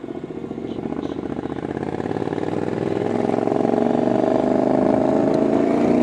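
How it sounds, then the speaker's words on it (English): Motorcycle cruising through city streets, a steady close engine thrum with a rapid pulsing beat that slowly swells louder as the ride builds speed. "riding around the city, doing a little moto vlogging"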